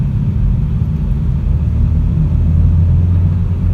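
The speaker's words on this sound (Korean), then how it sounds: "2000rpm을 조금 넘은 상황에서도 부웅하는 소리가 꽤 나죠." Hyundai Veloster 1.6L engine in sport mode, booming steadily at just over 2000 rpm while driven slowly; a loud, continuous low drone with no speech.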